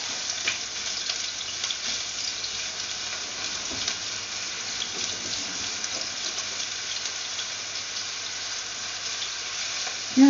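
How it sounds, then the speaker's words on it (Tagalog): Garlic and ginger frying in a pan for Filipino chicken adobo, giving a steady, fairly quiet sizzle that runs unbroken with faint scraping and crackle, and no voices. "Now the garlic is turned golden brown. We can now add the ginger."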